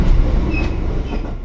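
Train on the Echigo Tokimeki Railway heard from inside, a steady close rumble of wheels and car body with faint high squeals, no talk.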